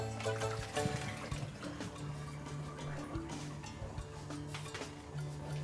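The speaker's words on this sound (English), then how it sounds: "And just pour out that hot water, because these are all hot now." Hot water splashes and gurgles as it is poured out of glass canning jars in uneven bursts, with light clinks of glass nearby and no speech.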